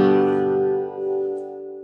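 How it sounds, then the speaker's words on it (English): A single chord rings out on a steel-string guitar, a bright strummed attack that decays smoothly over about two seconds with no talking. "So if I make that green shape chord on a guitar, it sounds like this."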